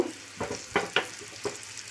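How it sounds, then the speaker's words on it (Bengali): Pre-boiled pointed gourd pieces fry in two spoons of oil in a pan, giving a soft continuous sizzle with a few light knocks and scrapes as the pieces are turned. "ওই তেলের মধ্যেই আমার এই পটলগুলো ভাজা হয়ে যাবে"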